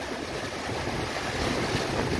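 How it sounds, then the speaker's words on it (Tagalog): Typhoon Paeng's strong wind roars steadily against rooftops in the Philippines, a dense rushing noise that swells slightly toward the end, with no voices. "lahampas sa mga bubungan yung hangin"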